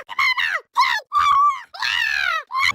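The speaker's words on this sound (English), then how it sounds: "Now the Toads scream when they're caught off guard, mainly with ghosts." Toads from the video game Luigi's Mansion Dark Moon let out about five short, shrill, squeaky screams in quick succession, loud and close with brief gaps of silence.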